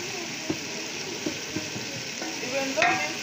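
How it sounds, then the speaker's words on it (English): Tomatoes cooking in a pot for soup, a steady close sizzle broken by several sharp scraping knocks as a utensil stirs against the pot. "Your tomatoes must cook well so that it brings the best soup."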